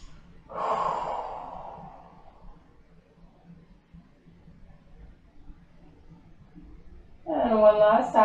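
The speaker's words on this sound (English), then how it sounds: "Inhale. Exhale, squeeze." Deep breathing during a beginner yoga session, with a long audible exhale early on, a quiet pause, then another strong breath near the end.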